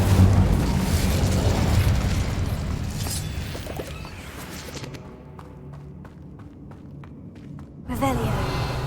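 A loud, roaring whoosh of magical flame from the Incendio fire spell in Hogwarts Legacy fills the first several seconds, then thins to softer crackles and pops before a last swell.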